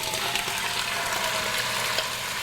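Beef pieces laid in one layer in a hot pan over medium-high heat, giving a steady close sizzle with faint scraping and clicking throughout.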